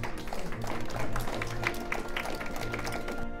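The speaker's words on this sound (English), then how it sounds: "So give yourselves a round of applause there." Audience applause at a breakfast honoring veterans, a steady patter of many hands clapping close by, filling the room evenly throughout.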